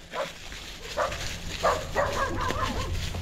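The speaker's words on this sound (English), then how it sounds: "It's a black wiener dog, Levi." A black dachshund barks in several short sharp yips, about four or five spaced across a few seconds, close and fairly loud over a low background hum.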